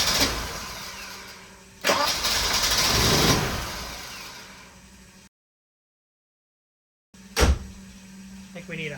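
A Volvo 242 Turbo, long abandoned and fitted with a bypassed fuel pump and a suspect ignition switch, cranks loudly in two separate bursts with a silent pause between them. The starter churns but the engine does not catch.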